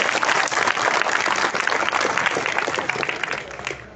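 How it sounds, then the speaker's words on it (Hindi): Close, loud applause from an audience after a poem recital, dense continuous clapping that stays strong throughout and eases slightly at the very end. "तो एक बार सर के लिए जोर से तालियां बजा दीजिए"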